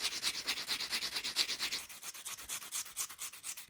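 Sharp edges of small guitar parts such as saddles being rounded off by hand, a quiet rhythmic rubbing of steady back-and-forth strokes, close up and alone.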